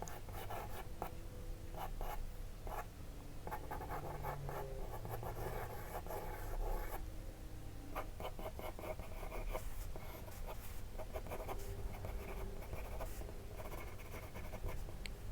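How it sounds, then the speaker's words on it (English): Graphite pencil lightly sketching faint structure lines on paper for a portrait drawing, a steady close scratching and scribbling texture that runs continuously, soft but constant, with no talk. "I'm starting with very light hand sketching to keep my structure lines very faint"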